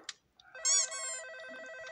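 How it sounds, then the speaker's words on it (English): A phone rings in the Roblox game Toytale RP: a tonal electronic trill that comes in after a soft click and keeps ringing steadily, clear and alone. "Now you need to answer the phone"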